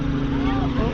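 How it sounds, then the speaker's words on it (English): A low, steady helicopter hum with a rotor throb, continuous and moderately loud, over a short moment. "Helicopter."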